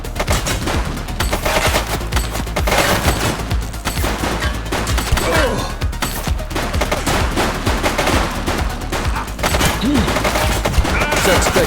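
Gunfire from a suspect during a police shootout in The Precinct. Rapid bursts of loud, close shots rattle almost without pause, and shouting voices are heard under them.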